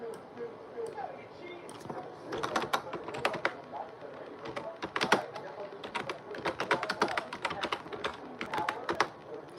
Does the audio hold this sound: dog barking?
no